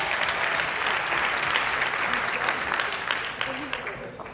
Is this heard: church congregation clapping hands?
yes